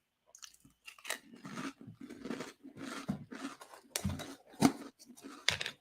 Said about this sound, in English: Let me tell you why I'm even eating Pringles right now